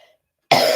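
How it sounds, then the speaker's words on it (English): A single short cough bursts out abruptly after near silence, close and fairly loud. "I'm going to cough again"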